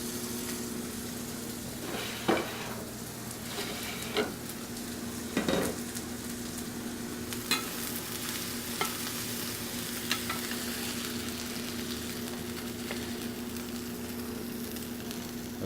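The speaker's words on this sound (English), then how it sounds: "you want to grill it just a little bit, saute a little bit" Miso salmon sautéing in a pan, a steady soft sizzle with a low hum beneath and a few light scrapes and taps of a utensil stirring, close and continuous.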